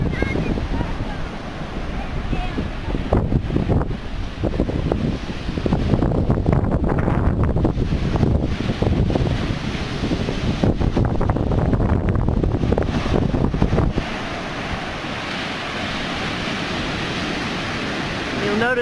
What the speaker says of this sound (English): catch some of the sounds of the waves